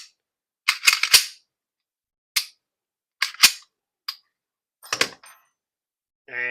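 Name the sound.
trigger function check clicks on handgun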